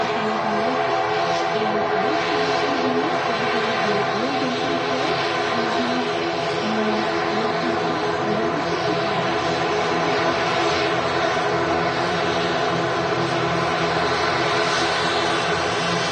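A Dreamliner airliner rolling for takeoff at Manchester Airport, a steady distant broadband jet roar that holds level throughout with no voices.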